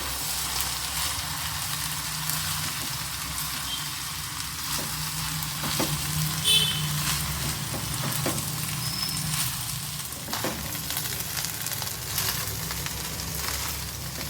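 Egg fried rice stir-frying with soy sauce and vinegar in a restaurant-style dish, sizzling steadily throughout with intermittent scraping and stirring clatter, no voices.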